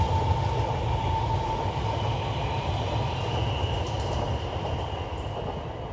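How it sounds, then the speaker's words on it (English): A train rumbles past nearby in a steady, continuous roar of wheels and carriages with a faint high whine, holding loud throughout with no talking. "Here comes the train."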